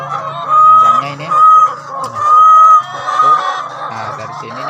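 Laying hens in their cages cluck and cackle loudly and close by, in repeated drawn-out bursts of several birds calling over one another.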